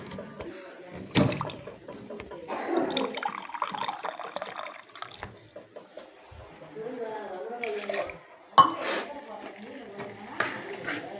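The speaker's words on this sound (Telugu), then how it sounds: "ఇప్పుడు వాటర్ పోసుకుంటున్నానండి." Water is poured into a cooking pot of palak paneer, a trickling, splashing flow heard close by with clattering bumps and a faint background hum, no talk over it.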